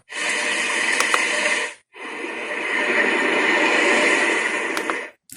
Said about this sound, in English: Those are waves.